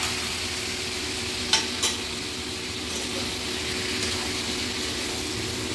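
Potatoes and mushrooms frying with spices in a pan, stirred so the steady sizzle runs throughout, with two brief scraping clatters early on and a few softer knocks later.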